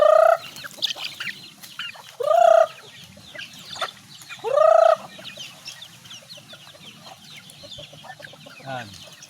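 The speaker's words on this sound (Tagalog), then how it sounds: "Papakain natin sa sisiw." Chickens cluck and call loudly while they are fed, with three strong rising calls close by, softer chirps and clucks in between, and a faint low murmur of movement underneath.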